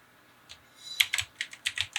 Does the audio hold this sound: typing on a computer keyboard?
yes